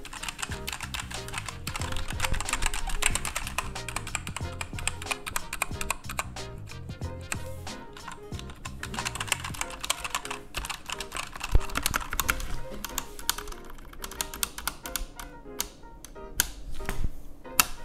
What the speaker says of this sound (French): je vais vous faire écouter de plus près ce clavier. On va taper un petit peu dessus